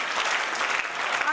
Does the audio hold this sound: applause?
yes